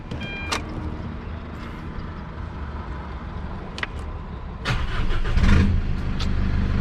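A turbocharged race car engine cranks and catches, then revs up into a loud, throaty rumble close by.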